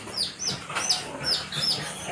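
Several short, high-pitched chirps and cheeps, close and fairly loud, sounding in quick succession, probably from a hen's chicks or a small farm flock with a rooster.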